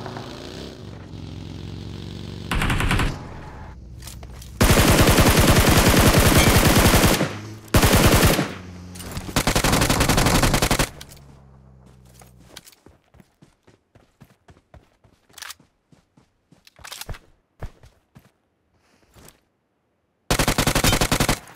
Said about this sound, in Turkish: Lan biri mermi mi attı?